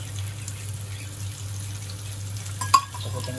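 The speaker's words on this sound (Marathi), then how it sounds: "बांगडा फ्राय आपला चालू आहे" Bangda (mackerel) fish frying in a pan gives a steady, low sizzling hiss over a faint hum, with one brief clink near the end.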